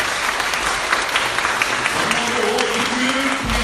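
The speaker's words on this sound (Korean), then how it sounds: "여러분들 서로서로를 보시면서 한번 감사하는 박수를 한번 올려드리기 원합니다" A church congregation at an anniversary thanksgiving and ordination service applauds in thanks, loud sustained clapping filling the room from start to finish.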